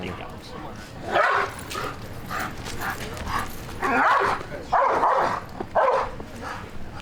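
A dog barks and yips in repeated bursts outdoors at a house, loud and close, with some whimpering between barks while people talk nearby.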